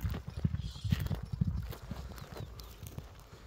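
A horse runs outdoors with other horses, its hooves giving a steady rhythmic clip-clop at moderate distance. Faint background ambience runs underneath.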